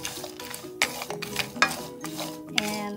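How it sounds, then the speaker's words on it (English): A spoon stirs vegetarian instant ramen with almond flakes and toppings in a pan, making repeated clinks and scrapes against the metal over a soft simmer, heard up close with no talk. "So basically all you have to do is stir it"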